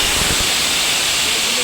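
Whole garam masala sizzling in hot mustard oil in a wok, a loud, close, continuous hiss with a burst of crackle at the start, then settling into a steady roar.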